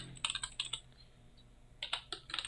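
Quick bursts of computer keyboard typing as a folder name is entered in Photoshop, with close, crisp key clicks in two clusters separated by a brief pause, without speech.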